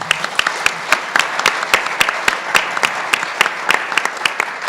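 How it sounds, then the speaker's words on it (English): Applause for panelists at a roundtable conference session, loud, close and fairly sparse, with distinct individual claps in a steady rhythm throughout. "Let's give them a round of applause."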